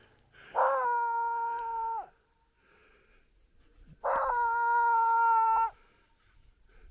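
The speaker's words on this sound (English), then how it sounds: "That dog can make noise when he wants to." A dog gives two long, steady, drawn-out howls, each lasting over a second, separated by a quiet gap and heard from a moderate distance.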